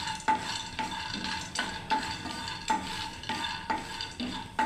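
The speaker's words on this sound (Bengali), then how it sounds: "প্রথমে আমি বাদাম ভেজে নিচ্ছি শুকনো কাঠখোলায়" Peanuts dry-roasting in a pan are stirred in a steady rhythm, each scrape and rattle of nuts repeating about twice a second, close and fairly quiet, with no voices.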